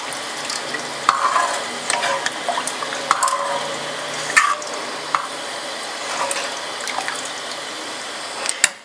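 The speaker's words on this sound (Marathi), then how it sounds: "आता त्याला चांगली उकळी येऊ दे." Spicy Maharashtrian misal curry with added water heating on a high gas flame: close bubbling and sizzling mixed with scattered clinks and scrapes of stirring, ending in a sharp knock.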